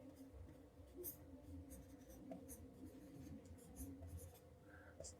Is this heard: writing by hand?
yes